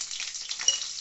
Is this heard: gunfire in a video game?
no